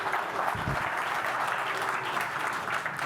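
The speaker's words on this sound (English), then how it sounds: "So applause for the gentleman." Audience at a technology conference keynote gives a steady burst of clapping, a dense, moderately loud wash of many hands that carries through the whole short stretch.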